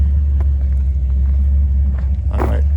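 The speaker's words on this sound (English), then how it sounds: "I hear a rumbly tumbly." A car engine rumbles low and steady at a drag strip car show, a deep continuous idle close by with a brief louder burst near the end.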